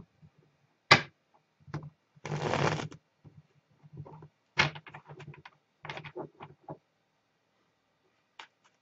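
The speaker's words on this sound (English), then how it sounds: "Let me shuffle the cards, people." Tarot cards are shuffled by hand in quick, close bursts of riffling and soft slaps, separated by short pauses in an otherwise quiet room.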